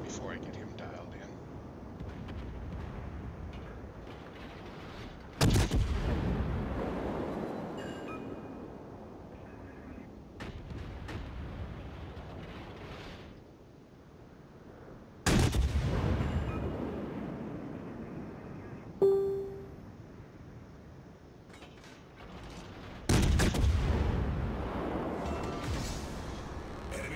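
Naval gunfire from a warship in a video game: four heavy, booming shots fired at roughly even intervals, each one a sharp blast that rolls off slowly. A faint tonal blip sounds between the last two shots, with no one talking.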